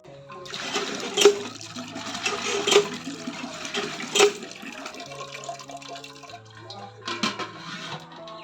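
Cooking pot being rinsed and filled with water at an outdoor tap, running and splashing water in uneven bursts with some drips, moderately close, faint voice in the background.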